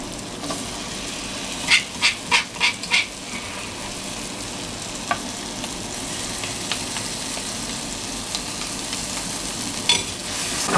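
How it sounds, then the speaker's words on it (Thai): Dried shrimp chili paste being stir-fried in a little oil in a pan gives a soft continuous sizzle, with a quick burst of scraping strokes early on and a few more clinks later. "เราผัดกันเรื่อย ๆ นะคะ ผัดพอหอมนะคะ"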